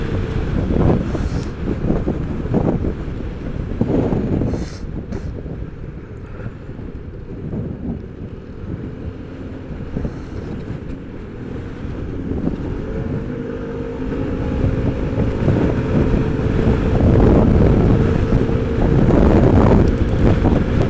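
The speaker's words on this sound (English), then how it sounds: "It's a little bit windy today. I don't know if you can hear that wind." Constant wind buffeting a microphone, a loud rumbling roar that swells and fades, mixed with the low drone of a moving Royal Alloy GT125 scooter.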